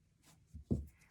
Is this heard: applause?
no